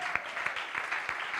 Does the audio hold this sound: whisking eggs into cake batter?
no